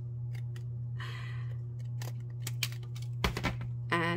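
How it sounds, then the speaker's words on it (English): Scissors snip through craft material for a mini tea box: several sharp, close cuts scattered over a steady low hum, the last few louder. "I really need to get some better scissors."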